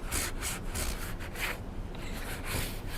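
A cloth wipes down the rusty spring of a 40-year-old Bullworker X5, making steady close rubbing strokes in a continuous, fairly loud scrubbing texture with no talk.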